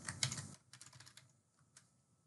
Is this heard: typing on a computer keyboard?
yes